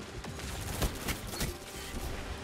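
Gunfire from the video game Spare Rations, a rapid burst of several sharp close shots over roughly two seconds.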